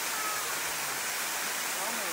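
Sturtevant Falls in California pours as a dense, steady roar of falling water close by, an unbroken hiss with no pauses over the whole moment.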